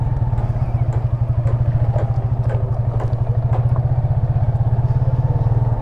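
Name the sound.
motorcycle riding over a rocky road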